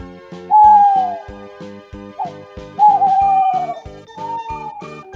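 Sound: owl hooting at night, birdsong

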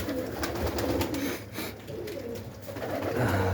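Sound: pigeons cooing

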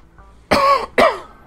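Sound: cough

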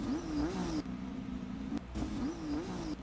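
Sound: motorcycle engine revving in an online motorcycle video game

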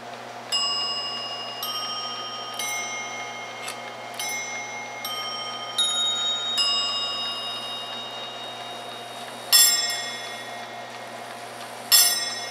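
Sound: chime clock chiming, released by the air governor

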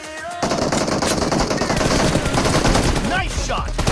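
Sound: gunfire in video game PUBG Mobile

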